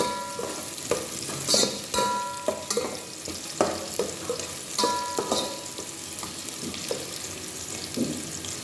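Onion and ginger fry in a pan for salmon belly sinigang, a steady sizzle broken by irregular clattering strokes of stirring, close and alone.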